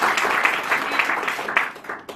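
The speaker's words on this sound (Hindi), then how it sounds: "तो उनके लिए जोरदार ताली बजाइए।" An audience breaks into applause at a Rajasthan team gathering, a short dense burst of clapping that swells and fades over about two seconds, with no speech over it.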